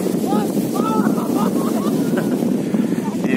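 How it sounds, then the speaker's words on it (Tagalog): Strong sea waves around a small boat off Cabangan, Zambales, a constant rushing wash of water and wind buffeting the microphone, loud and close throughout with faint voices beneath. "Lakas ng alon."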